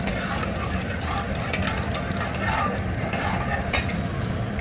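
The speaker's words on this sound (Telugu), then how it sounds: "సో ఇవన్నీ వేగుతున్నాయి కదా" Spices crackle and sizzle in hot oil in a pan for bambino vermicelli, a steady close frying hiss with light stirring clinks throughout.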